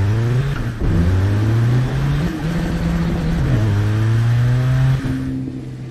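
A Toyota Kijang Innova in the driving game Assetto Corsa accelerates hard, its engine note climbing repeatedly through gear shifts, each rise dropping back in pitch before pulling up again; loud and steady with no talk.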